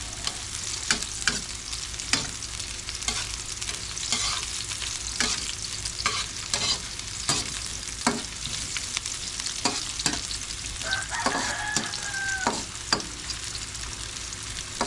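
Garlic and onion sauté in a hot pan, a steady close sizzle broken by repeated clacking strokes of a spatula against the metal, with no talk.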